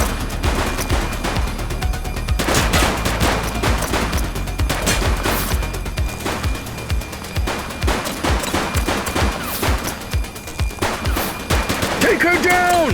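Rapid gunfire from a suspect shooting in The Precinct video game: dense bursts of sharp shots and automatic fire crackling over several seconds, loud and close, with voices briefly heard.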